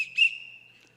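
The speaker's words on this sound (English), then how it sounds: "we'll give you a 3-minute warning when it's nearing the end of your session, and that will be 3 short blasts on the whistle" A single short, shrill blow on a referee-style whistle, clear and fairly close, ending in about a second.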